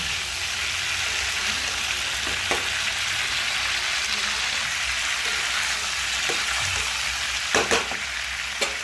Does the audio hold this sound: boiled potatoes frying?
yes